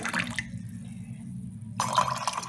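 Boiled and cooled water is poured into a container for raw mango juice, a short splashing fill close by that pauses briefly and then resumes more loudly.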